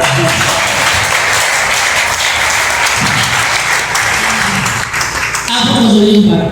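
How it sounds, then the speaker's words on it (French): A church congregation claps in sustained applause at a merit diploma ceremony for an apostle, loud and dense throughout and swelling near the end, with voices mixed in. "Applaudissez pour ça."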